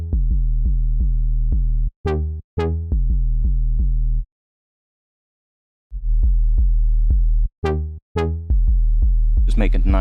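Buzzy, distorted synthesizer notes for sound design, played in short rhythmic bursts with sharp attacks and a pause in the middle, loud and up front with a noisy crackle near the end.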